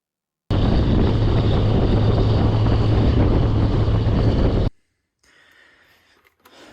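A runaway Polaris diesel engine over-revving, a loud, steady, high-pitched roar that holds flat for about four seconds and then cuts off abruptly, leaving faint rustling behind.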